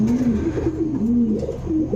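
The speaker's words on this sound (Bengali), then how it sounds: "এটা মডার্না কবুতর, কবুতর কোয়ালিটিটা দেখেন" Modena pigeons coo continuously in low, rolling, warbling phrases, several birds overlapping close by with a steady murmur behind them.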